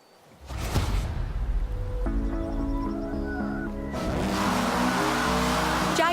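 An old Jaguar car in Forza Horizon 4 drives by with a steady, humming engine note that climbs in pitch, then swells into a louder, rushing roar with faint tire noise and no talking.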